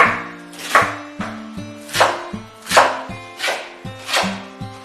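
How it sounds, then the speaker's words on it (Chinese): A knife chops scallions and garlic on a cutting board in steady, rhythmic strokes, about eight sharp thuds with crisp blade contact, close and fairly loud, each chop followed by a brief ringing resonance. "准备了300克的葱，200克的蒜，将葱蒜呢都切碎"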